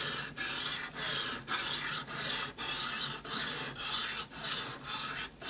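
Steady rhythmic rasping strokes of a knife drawn across a Ruixin Pro RX-008 sharpener, about two per second, close and fairly loud with no voices.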